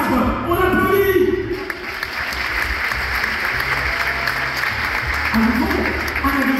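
A theme park show audience at Parc Astérix applauds loudly and continuously, with a low droning tone and murmuring beneath the clapping.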